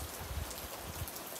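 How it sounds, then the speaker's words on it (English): A short burst of rain falls outdoors, a soft, steady patter of drops hitting surfaces, faint and distant with no voices. "We just had a burst of rain here, about 5-10 minutes."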